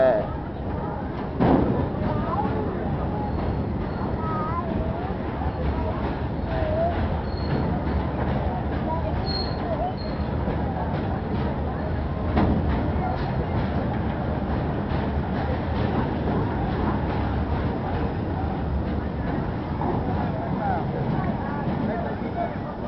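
A continuous low rumble and rattle of a train departing Thanjavur railway station, steady and fairly loud throughout.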